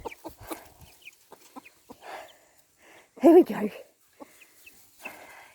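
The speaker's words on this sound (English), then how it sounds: "Let's come in and see the chickies." Chickens and young chicks in a coop cluck and peep in short scattered bursts close by, with a louder squawk midway, while a person speaks briefly.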